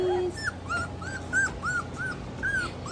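A litter of young puppies whimpers in a run of about seven short, high, rising whines, evenly spaced and fairly close against a steady background hiss.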